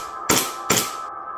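A gas blowback airsoft pistol fires two quick, sharp shots about half a second apart, each a short hissing burst of gas. The shots are close and fairly loud, with no talking.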